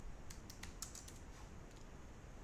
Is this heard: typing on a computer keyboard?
yes